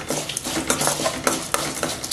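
A spoon scrapes and clinks while stirring cooked rice mixed with cashews in a pot, with a steady run of soft scraping strokes and small metallic taps, close and fairly loud, no talking.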